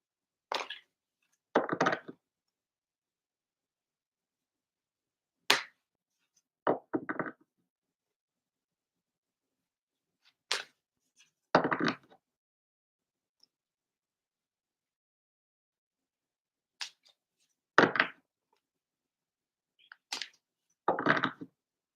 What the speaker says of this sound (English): We are shuffling for Nag Champa.